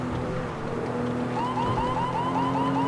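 A police car siren wails in a city street, a repeating rising whoop that starts partway through and cycles steadily, moderately distant under a constant background hum.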